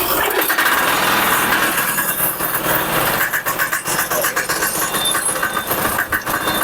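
A farm cultivator's small engine runs with a rough, rapid mechanical chatter, loud and steady through the whole stretch, with voices faintly present underneath.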